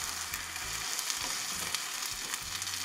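Crispy cooked food in a pan gets a light toss, a steady hiss of frying with soft shuffling and faint knocks underneath, close and fairly quiet.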